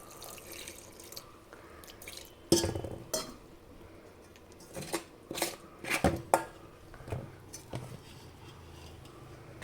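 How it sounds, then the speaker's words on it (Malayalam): Batter for chilli gobi is stirred in a bowl with a little added water, giving scattered wet clinks and sloshing bursts at close range with no talk. "ഇട്ട് കുറച്ച് വെള്ളം ഒഴിച്ചിട്ട് നമുക്ക് കലക്കിയെടുക്കാം"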